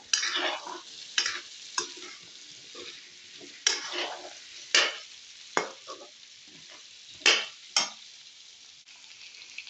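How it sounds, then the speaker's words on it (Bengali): Potatoes frying in oil while being stirred, repeated bursts of loud crackling sizzle with spatula scrapes at an irregular rhythm, close up and with no voices. "এই যে আলুটার একটু তেলের উপরে ভাজতেছি।"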